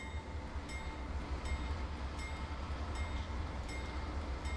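A Pacific Surfliner train in the Train Simulator 2020 game, leaving San Diego, rumbles steadily under a continuous low engine drone, with faint periodic clicks from the rails.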